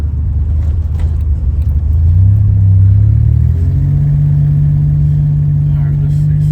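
A Buick Grand National's engine revs under light throttle, a loud, close mid-pitched rumble that swells after two seconds and holds at a steady higher idle to the end.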